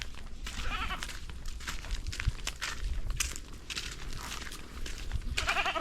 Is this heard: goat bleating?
yes